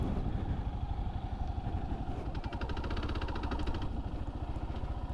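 A motorcycle rides slowly in second gear during a skills check, its engine giving a steady low throbbing putter close by with a faint rattling clatter.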